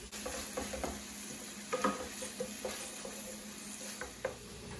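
Half a pound of ground beef with taco seasoning browns in a pan, giving a steady low sizzle with occasional scraping stirs of a utensil against the pan, close and moderately quiet.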